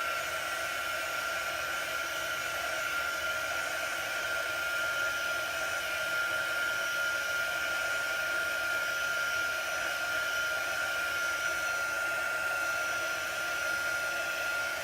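Heat gun drying paint on craft jugs, a steady loud whooshing hiss with a fixed whine, running unbroken from start to finish with no voices.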